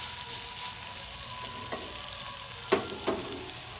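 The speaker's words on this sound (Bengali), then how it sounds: "এর ফলে পোস্তটাও ভাজা ভাজা হয়ে যাবে।" Beet, potato and eggplant fry with poppy seeds in a pan, giving a steady close sizzle with a few scraping stirs near the end and no voices.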